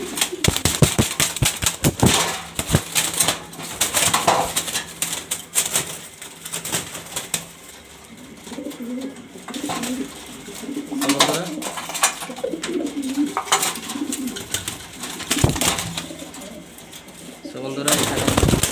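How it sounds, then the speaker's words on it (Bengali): Pigeons of a quality breeding flock cooing and fluttering close by, with repeated sharp wing claps and flapping bursts over a steady murmur of coos. "বন্ধুরা এখানে দেখতেই পাচ্ছেন সব কোয়ালিটিফুল কবুতর মাশাআল্লাহ, পছন্দ হওয়ার মতো কবুতর।"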